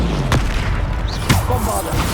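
Bombarda blasting-spell explosions in Hogwarts Legacy go off as two sharp, loud booms about a second apart. A dense, rumbling game soundscape fills the gaps, and a character's voice is heard briefly.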